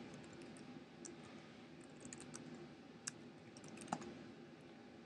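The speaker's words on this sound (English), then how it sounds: "Go to your browser and type in the name of your blog." Quiet, steady clicking of computer keyboard keys typing a blog name into a browser, soft rapid keystrokes with a couple of sharper taps, no talking.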